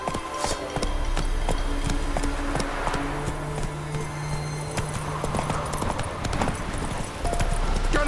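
Hooves of the horse Roach clip-clop in The Witcher 3 game, a brisk steady run of close rhythmic hoofbeats with faint ambient tones underneath.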